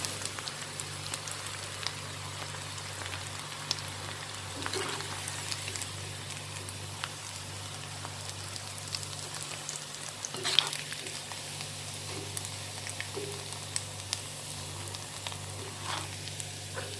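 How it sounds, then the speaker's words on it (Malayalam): Cauliflower pieces deep-frying for Gobi 65 in hot oil, a steady quiet sizzle and crackle with occasional pops, continuous and close with no talking. "ഇതുപോലെ തന്നെ ബാക്കിയുള്ള മുഴുവൻ പൊരിച്ചെടുക്കാം."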